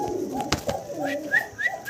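Lahori pigeons with yellow plumage coo softly in a short run of low, rolling calls, faint and close, with a few brighter chirps among them.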